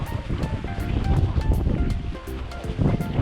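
Sea surf at a campsite in Fukui, a steady close wash of waves mixed with gusting wind rumble on the microphone, with no talk.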